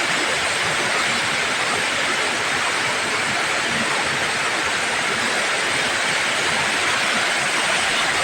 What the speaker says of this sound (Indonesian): kita akan menemui beberapa air terjun, yang salah satunya adalah air terjun Sungai Luar.